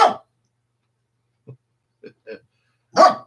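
A dog gives a few barks, one sharp bark at the start and another at the end, with a couple of quiet yips between and silence around them.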